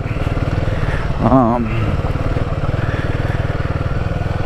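A motorcycle drones steadily on mountain roads, heard close and loud throughout, while a rider briefly speaks over the engine.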